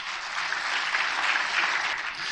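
An audience at a lecture on Korean War history breaks into steady, dense applause that holds at an even level from start to finish, with no voices on top.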